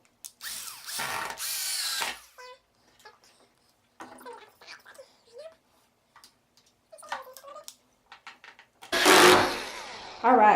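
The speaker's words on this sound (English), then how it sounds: "switch out my bit again to the screwdriver and then go ahead and screw the screws into" An electric screwdriver drives screws into an industrial kitchen cart in two loud, close whirring bursts at the start and end, with quiet clicks and handling noises between them.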